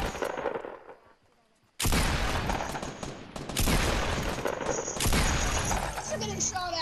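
Loud, sustained gunfire erupts in Fortnite after a quieter moment, dense automatic bursts filling the scene with brief breaks between volleys.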